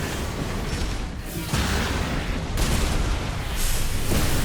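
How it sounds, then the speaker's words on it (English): An Armored Core 6 mech boosts in, fires a missile and lands a kick: a dense, loud roar of thrusters and explosive booms, with heavy impacts surging about every second and no talking. "We assault boost in, firing the missile, kick."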